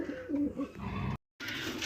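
Soft, low pigeon coos repeat in short rolling phrases close by, then a brief gap before faint background noise resumes.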